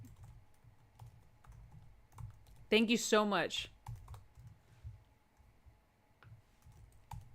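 Computer keyboard typing comes as soft, scattered key clicks in a quiet room, with a brief spoken phrase partway through.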